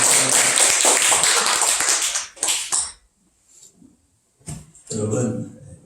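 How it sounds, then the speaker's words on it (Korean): A church congregation claps together in a dense burst of applause for a couple of seconds, followed by a brief pause and a voice. "우리 박수 한번 합시다."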